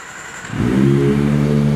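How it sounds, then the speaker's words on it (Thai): A 2021 Kawasaki ZX25R with a titanium slip-on exhaust fires up after a brief quiet moment, then settles into a loud, steady, close-up idle with a smooth buzzing exhaust note. "ฟังเสียงท่อคันนี้กัน"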